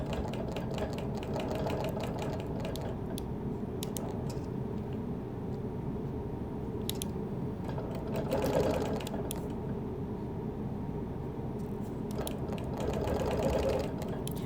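A sewing machine stitches steadily while quilting a Baltimore album quilt, a continuous fast mechanical whir with a few brief clicks and slight swells, close and moderately quiet with no talking.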